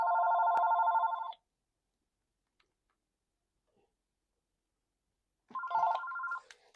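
An office telephone ringing in a studio, two electronic ring bursts separated by several seconds of silence, clear and fairly close with no one talking.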